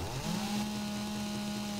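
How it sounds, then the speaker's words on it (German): A chainsaw in the video game 7 Days to Die cuts trees with a steady, loud, droning engine buzz that holds a constant pitch, alone with no talk. "Aber schön angenehm leise, die Kettensäge."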